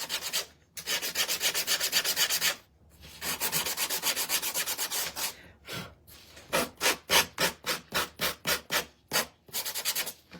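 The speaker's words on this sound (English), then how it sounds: "This is my Gator sander. If you don't have this guy, you need it. I love this sander." A Gator electric sander works over a wooden door hanger, giving close rasping passes in long strokes and then shorter rhythmic bursts with brief pauses.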